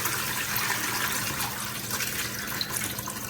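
Water is poured off soaking peas in a steady, continuous splashing rush, close by and fairly loud, with no talking.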